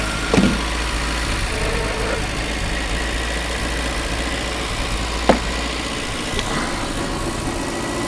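A Peugeot 305 that sat in a hedge for 33 years idles steadily just after its first start, a low continuous engine drone with a couple of sharp clicks or knocks and a slightly funky alternator bearing noise.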